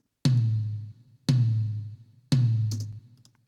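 Three evenly spaced tom hits from a rock drum kit, recorded without EQ, each a loud, close, punchy strike with a low, booming decay, heard alone.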